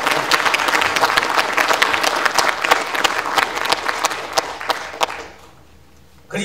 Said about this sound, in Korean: 다시 한번 우리 지사님께 큰 박수 보내주시기 바랍니다